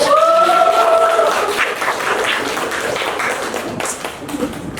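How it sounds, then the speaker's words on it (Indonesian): A classroom of students claps together in a burst of applause, the dense clapping fading slightly. A voice is heard briefly at the start. "Ayo dong tepuk tangannya."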